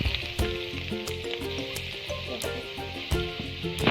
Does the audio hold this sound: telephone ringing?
no